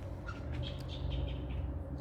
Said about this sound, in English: Very little sound except birds.